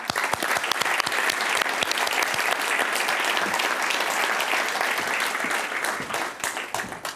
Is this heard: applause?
yes